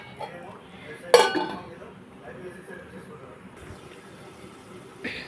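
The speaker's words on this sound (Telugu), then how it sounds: "మనం ఇప్పుడు మూత పెట్టుకుంటాం" A metal lid is set onto a cooking pot of tomato and dried-prawn curry, giving one sharp close clink and rattle, followed by quiet stillness and a fainter knock near the end.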